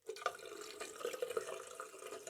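Water splashing and running as a face is wetted before a shave, a steady close wash of liquid with small splashes, no speech.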